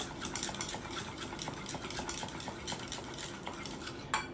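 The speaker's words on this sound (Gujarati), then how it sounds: "થોડું દહીં બીજું પણ ઉમેરી લઈશું સરસ રીતે વ્હીપ કરી લઈશું આપણે એને" Yogurt being whisked for cucumber raita makes a quick, regular run of soft tapping strokes against a bowl, close and fairly quiet, with no talking.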